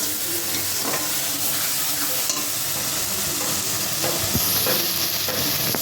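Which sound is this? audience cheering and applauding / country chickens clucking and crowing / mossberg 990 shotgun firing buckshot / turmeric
turmeric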